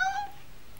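A single short cat meow, clear and fairly close, fading into quiet room tone; the cat appears in a horror trailer setting.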